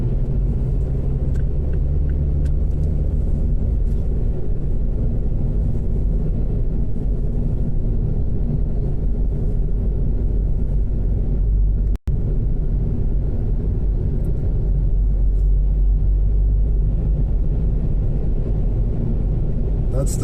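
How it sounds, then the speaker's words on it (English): Steady low rumble of a car's road noise at highway speed, loud and continuous throughout, with one brief dropout near the middle; a voice speaks faintly over it. "Too much car noise."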